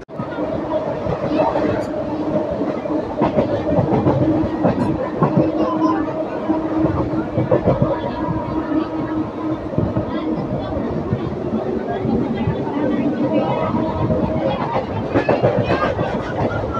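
Bidar intercity express rolling on rails: a continuous rumble with rhythmic clickety-clack, under babble and people talking in the carriage throughout.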